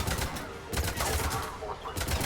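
Gunfire in Mass Effect 3, fast repeated close shots in short bursts forming a dense, steady barrage with some talking over it.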